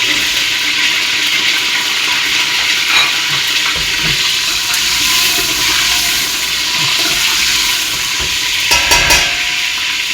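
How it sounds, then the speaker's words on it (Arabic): Red peppers hitting hot oil and frying, a loud, steady crackling sizzle close up that holds throughout, with a brief sharper burst of spattering near the end. "توا حطيت شوية زيت تسخن، ها هوكا الزيت. توا باش نرمي الفلفل"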